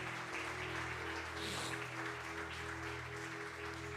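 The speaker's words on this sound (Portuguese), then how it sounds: "Vamos aplaudir o nome de Jesus." A congregation at an evangelical church service applauds, a soft, continuous patter of clapping carried over a steady low electrical hum from the room's sound system.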